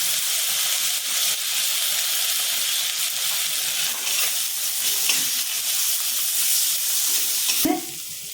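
Water poured into a hot pan of spices (turmeric, cumin, coriander, chili) for moong dal sets off a loud, continuous hissing sizzle, ending with a short clatter near the close.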